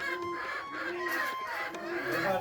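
Chicken clucking and squawking in agitation while someone tries to catch it on a farm, a steady run of close, busy calls with voices in the background.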